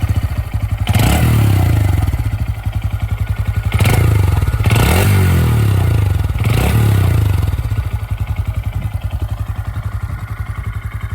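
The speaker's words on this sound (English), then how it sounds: "here's what the stock bike sounds like on startup" A stock Honda Grom 125 motorcycle idles close by with a steady, rapid single-cylinder putter, broken by several sharp throttle blips that swell and fall back to idle.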